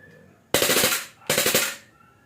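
A KWC Glock 18C gas blowback airsoft pistol with plastic slide and outer barrel fires two rapid full-auto bursts, each a fast, loud string of sharp cracks with a short gap between them.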